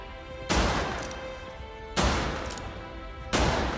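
Three loud, sharp pistol shots in a video game, evenly spaced about a second and a half apart, each with a short ringing decay.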